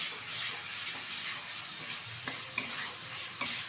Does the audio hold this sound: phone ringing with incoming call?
no